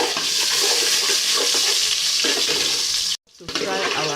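Onions frying in a pan give off a loud, steady sizzle with stirring noise, then break off in a brief silence before the sizzle resumes.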